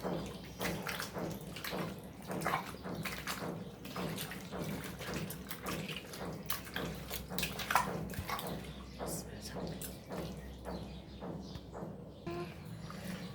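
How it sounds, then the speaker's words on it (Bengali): Cleaned stinging catfish are rinsed by hand in water, giving close, repeated splashing and sloshing with rhythmic bursts of running water throughout. "দেখো এখন ধুয়ে পরিষ্কার করে নিচ্ছি"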